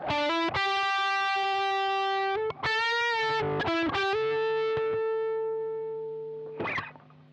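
A loud, distorted electric guitar plays the opening phrase of a solo with sustained, bent notes, ringing out and fading toward the end.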